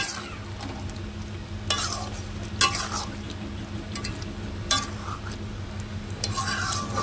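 Chicken spiced with garam masala sautés in oil in a pan, a low continuous sizzle punctuated by several crisp metallic scrapes and clinks of a spoon stirring against the pan. No one speaks.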